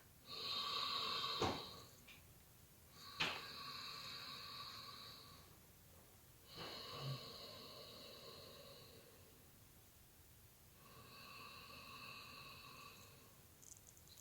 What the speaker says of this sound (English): So for Ujjayi breathing though, we're doing it with the mouth closed. So same sound as though you're fogging a mirror.